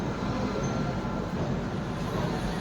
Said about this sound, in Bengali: ট্রেনটা খুবই ধীরে ধীরে চলছে হাওড়া ছাড়ার পর